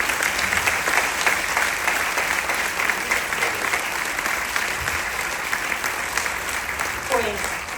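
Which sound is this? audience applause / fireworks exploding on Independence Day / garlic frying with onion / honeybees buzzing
audience applause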